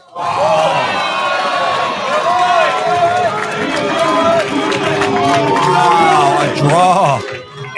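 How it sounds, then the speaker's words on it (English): A boxing arena crowd at a live fight reacts after a draw decision is announced, a loud, sustained roar of mixed shouting and jeering voices filling the whole hall, with individual calls rising above the din before it briefly drops off. "the crowd certainly not a fan of that decision there being a draw per the judges"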